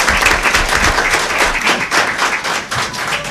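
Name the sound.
audience applause for the school board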